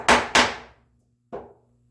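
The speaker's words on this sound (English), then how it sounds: "So I'm going to chop it just like I would a dovetail." Two sharp mallet blows on a chisel chopping walnut by hand, dovetail-style, followed by a pause and a third lighter strike; close, dry woody knocks ringing briefly over quiet room tone.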